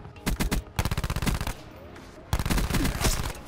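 Rapid bursts of automatic fire from the VMP submachine gun in Call of Duty Black Ops 4, loud and close, several strings of shots separated by short pauses.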